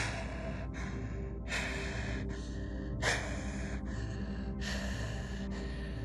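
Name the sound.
gasp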